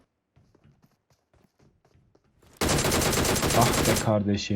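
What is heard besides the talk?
gunfire in video game PUBG Mobile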